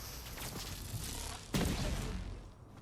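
Fortnite gameplay audio carries a continuous rumble of gunfire and blasts, with one sharp, loud explosion bursting out midway before the noise fades toward the end.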